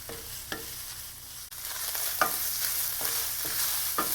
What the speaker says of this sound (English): now it's time to add the garlic and ginger, and you want to saute that